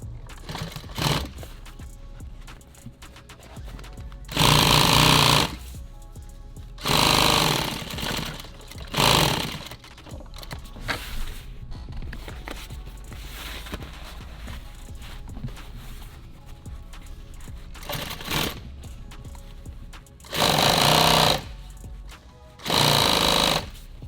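A sewing machine stitching nylon tactical gear runs in several loud, rapid bursts separated by short pauses and handling noise, close up with no talking.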